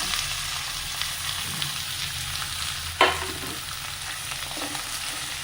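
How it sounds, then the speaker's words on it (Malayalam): Chopped onions and curry leaves fry in hot coconut oil with a steady, close hiss, and one sharp stirring scrape lands midway. "അതിലേക്ക് 3 സവാള ചെറുതാക്കി അരിഞ്ഞത് കറിവേപ്പിലയും ഇട്ട് കൊടുക്കാം."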